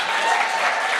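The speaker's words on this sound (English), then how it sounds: "let's get a big round of applause for our welfare officer candidates" Audience at a student union welfare officer election debate applauding, a brief dense burst of clapping, loud and steady.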